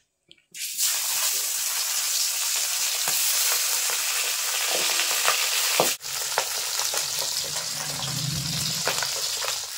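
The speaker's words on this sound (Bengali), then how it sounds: "এখন আমি এই মাছগুলো ভেজে নেব" Loud, steady sizzling of pabda fish frying in hot oil, close up, with a sharp crackle partway through and bubbling continuing underneath.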